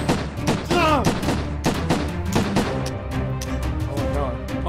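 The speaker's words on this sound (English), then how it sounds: "My gun shooting!" Gunfire in a video game, a series of sharp repeated shots in irregular bursts, loud and close, with excited voices shouting over them.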